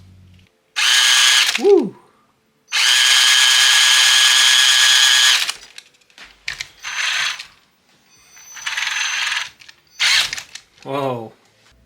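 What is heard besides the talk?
RC car 80-turn brushed electric motor running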